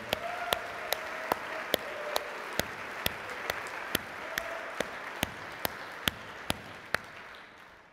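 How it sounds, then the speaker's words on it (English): Audience applause at the 2014 La Quinta conference: a sustained wash of clapping that holds steady for several seconds and fades at the end, with evenly spaced sharp ticks running through it. "Let's give them a big round of applause."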